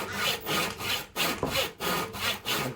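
Hand saw cutting a clamped wooden joint at a slight angle, with about eight steady rhythmic push-pull strokes of rasping wood, close and clear, with no talk.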